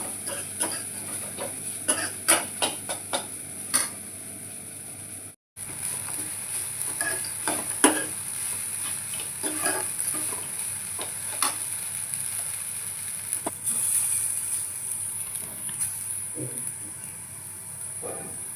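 A soft, steady sizzle of cumin, curry leaves and peanuts frying as a tempering for poha, with scattered crackles and pops, close and fairly quiet, with a brief pause partway through.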